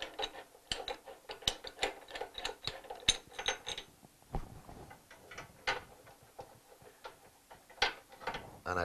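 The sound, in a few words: spark plug loosened with spanner on pressure washer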